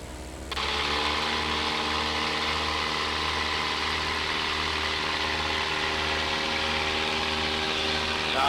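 A Super Patriot Cub aircraft engine cranks and catches about half a second in, then settles into a loud, steady, rough idle with a rhythmic mechanical pulse that carries on without break.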